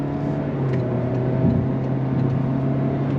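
A 2025 Toyota Corolla FX with a CVT and simulated shifts, heard under steady throttle: a continuous, moderately loud engine drone with a sustained hum and no speech.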